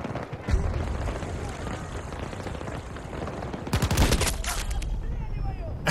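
Gunfire in the shooter game Battlefield 2042: dense bursts of automatic fire and booming shots, with a loud cluster of blasts toward the end and someone talking over the battle.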